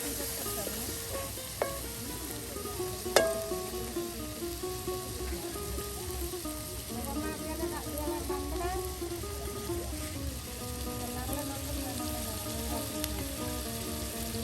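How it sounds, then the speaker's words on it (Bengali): Chicken dish ingredients frying in oil at an outdoor village cookout, a steady dense crackle and sizzle running throughout with a few sharp clinks and faint background voices. "এখন কিন্তু একদম তেলে সব কিছু এই যে ভেজে নেওয়া হচ্ছে"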